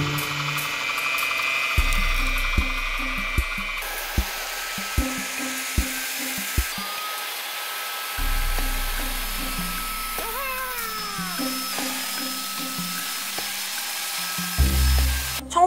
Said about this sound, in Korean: 저 이렇게 좋은 청소기 처음 써봐요